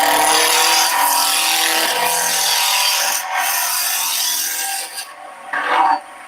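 Wood rasped to rough it down during a woodturning session: a loud, continuous scraping rasp runs for about five seconds, then breaks off into brief quieter scrapes, with no talking.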